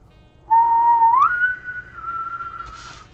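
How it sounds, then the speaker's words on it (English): A single eerie human whistle holds a low note, slides upward and then sustains a long, steady higher tone, close and clear over a quiet background. "He just did the spooky whistle"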